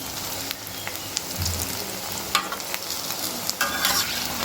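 Urad dal pakoras fry in mustard oil in a kadai with a loud, continuous crackling sizzle and scattered sharp pops, heard close up with no talking.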